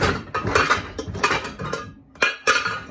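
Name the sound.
handling Pyrex glass dishes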